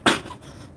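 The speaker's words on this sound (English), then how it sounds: "She's out of breath, hacking and coughing from a walk from the kitchen." A woman who is out of breath lets out a sharp hacking cough, then starts another harsh cough a moment later, close and loud.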